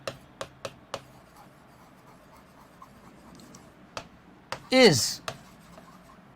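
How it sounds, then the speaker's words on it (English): A pen moves across paper while working a simple interest problem: a few close taps and short scratchy strokes, then a longer squeaky stroke, alongside a speaking voice. "I can write one definition, one line of this type"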